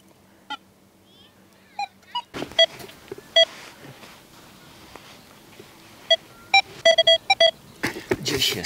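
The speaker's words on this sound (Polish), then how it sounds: "można zejść na nadmorską plażę, no i odpalić wykrywacz metali." A metal detector sweeping a Baltic seaside beach at Stegna, Poland, gives several short, high electronic beeps in irregular bursts, some doubled or tripled, over quiet background rustle and brief wind noise near the end.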